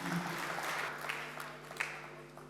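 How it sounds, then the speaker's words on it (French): Audience applause at a speech gathering, a steady, fairly faint wash of clapping that holds evenly for a couple of seconds over a low background hum. "je demanderai, si possible, vos acclamations pour cette équipe"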